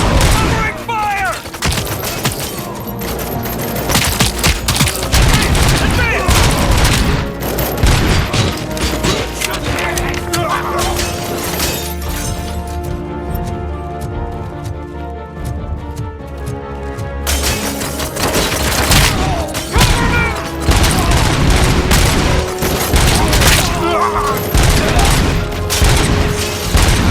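Dense gunfire in the RoboCop: Rogue City shooter, with loud rapid automatic bursts, booms and impacts that pause briefly midway before the barrage resumes, while voices call out now and then.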